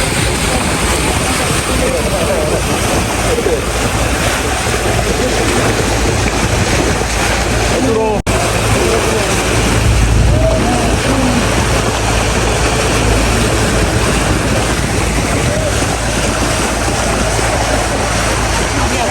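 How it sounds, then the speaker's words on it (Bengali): Two trawler boats towing long bamboo rafts across Kaptai Lake, their engines making a loud, continuous droning rumble mixed with water and wind noise, steady throughout. "দেখেন এই দুইটি ট্রলার এগুলোকে টেনে নিয়ে যাচ্ছে"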